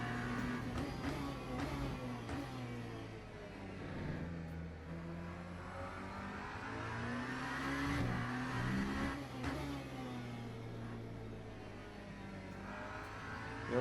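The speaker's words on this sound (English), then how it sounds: "Obviously we're driving the Genesis as well, which is the brand new Hypercar." The brand-new Genesis hypercar in Le Mans Ultimate holds a fairly quiet, steady engine drone that climbs and eases through revving pulls and shifts. No one speaks over it.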